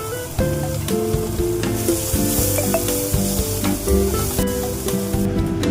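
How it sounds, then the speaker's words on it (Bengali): A whole onion and dried chillies fry in hot oil, giving a continuous crackling sizzle with stirring scrapes and clinks in the pan, steady and close, with no voices. "শুকনো লঙ্কাটা এই তেলেই আমি একটা গোটা পেঁয়াজ ভেজে নেব"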